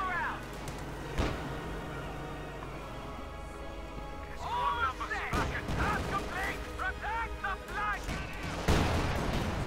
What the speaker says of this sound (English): Bazooka shots there versus the Puma.